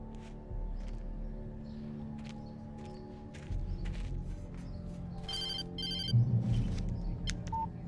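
An old-fashioned telephone bell rings in short bursts in the game Alan Wake, heard a few times over quiet footsteps and low ambient rumble in an indoor scene.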